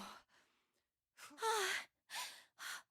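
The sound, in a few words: panting sounds heard instead of the game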